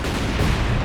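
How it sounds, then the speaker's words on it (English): Light artillery barrage in the war strategy game Company of Heroes 2, a dense, loud, continuous roar of overlapping blasts and booms packed into under a second, with no pauses between impacts. "Dropping the light artillery barrage on the machine gun and the anti-tank gun here."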